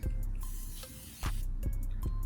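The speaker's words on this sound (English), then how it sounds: "Woo, that is a strong spray." Several short, sharp hisses from a hand-pumped spray bottle burst out in quick irregular succession, close and fairly loud, with brief gaps between squirts.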